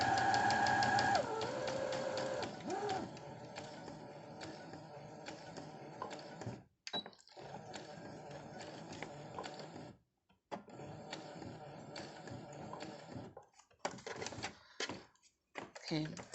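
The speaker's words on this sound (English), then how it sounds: "I'm going to start exactly in the corner with a needle down" A sewing machine stitching a repair on a tote bag, its fast mechanical needle clatter running in bursts with short pauses, fairly quiet and close, with a person talking over parts of it.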